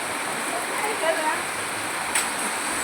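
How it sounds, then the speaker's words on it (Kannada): Heavy rain falls as a steady broadband roar like rushing water, continuous throughout with a couple of faint brief clinks, while someone talks over it. "ಜೋರು ಮಳೆ ಆಗಿದೆ"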